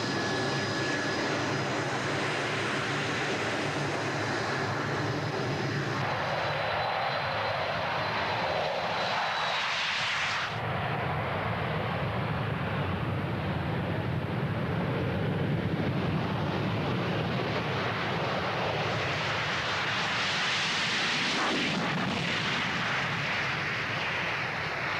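An RAF Buccaneer jet aircraft in flight gives a loud, steady engine roar heard from close by. It holds throughout with shifting tone and broad rushing noise, and no talking is heard.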